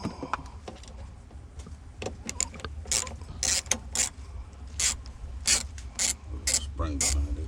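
Tamper-proof T10 Torx screws being backed out of a Jeep Wrangler ignition housing, heard as faint irregular ratcheting clicks and metallic scrapes with handling noise over a low background hum.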